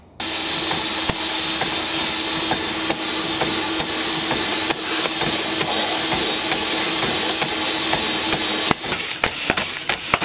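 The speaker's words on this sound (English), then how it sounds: "And now I'm using a spanner as a fucking hammer." A spanner serves as a hammer, striking metal with irregular sharp knocks over a constant loud mechanical whir, and the blows come faster and closer together toward the end.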